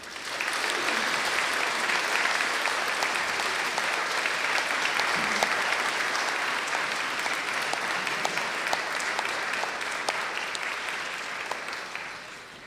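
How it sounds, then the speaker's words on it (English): Graduates at a university graduation ceremony in a darkened hall give their friends and supporters a long round of applause, a sustained, evenly textured clapping from a large crowd that stays fairly distant and soft throughout. "turn towards your friends and supporters and give them a big round of applause"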